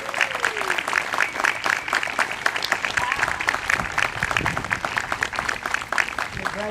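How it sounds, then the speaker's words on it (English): An audience applauds an award presentation of the Strongest Town Award for 2018 to Muskegon, Michigan. The hall fills with brisk, sustained clapping, and a voice cuts in briefly at the start. "Let's give the city a round of applause."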